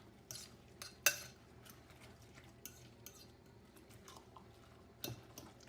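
Breakfast casserole ingredients with mozzarella cheese being mixed in a dish, quiet scraping and stirring with a few sharp utensil clinks against the dish.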